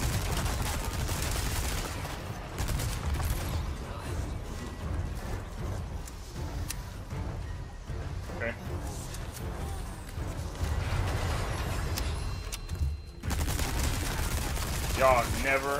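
Rapid SMG bursts in Resident Evil 4 Remake fire steadily amid game noise and mechanical clatter, with the gunfire loud and continuous throughout.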